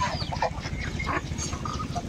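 Chinese geese kept as pets call in a noisy farmyard flock, a cluster of honks and cackles over a low background rumble.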